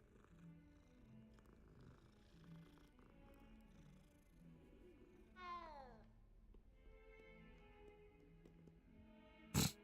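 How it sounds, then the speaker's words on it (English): A cat in a video game purrs softly and steadily, then gives one clear rising-and-falling meow partway through, with faint game ambience underneath and a brief loud click at the end. "I could pet the cat."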